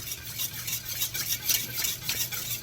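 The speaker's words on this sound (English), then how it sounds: "I'll continue to whisk and be back shortly" Whisking a yellow curry sauce in a pot, a steady scraping and stirring rhythm, close and moderately quiet with no talk.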